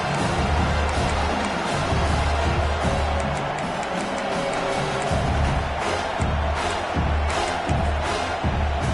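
A home stadium crowd roars steadily on third down in the college football video game CFB 26, South Carolina vs Texas A&M, a dense, loud wash of noise lasting the whole span with faint commentary mixed in.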